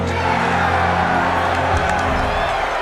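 A crowd of citizens cheers and whoops in a steady, dense roar of voices that holds at an even, fairly loud level throughout.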